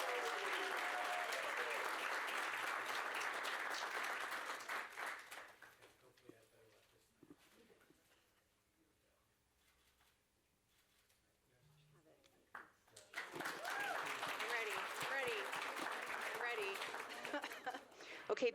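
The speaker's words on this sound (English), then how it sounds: "Let's give our 2 Staff of the Month one more big round of applause." Audience applause at a school board meeting honoring Staff of the Month, a full round of clapping that fades to near silence and then swells again with cheering and voices.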